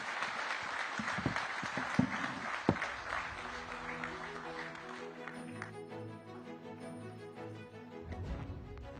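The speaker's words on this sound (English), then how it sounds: "let's give these 3 founders a great round of applause" A conference audience at a startup conclave claps for a few seconds, fairly faint and distant, then the applause gives way to soft background music.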